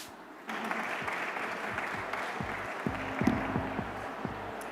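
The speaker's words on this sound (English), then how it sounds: "Welcome to the stage, Sarah. Round of applause for Sarah" Conference audience at the Newtopia Now event claps to welcome a presenter on stage: applause starts abruptly after a short pause and continues evenly, with a low tonal hum or music underneath.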